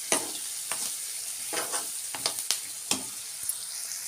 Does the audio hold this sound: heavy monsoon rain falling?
no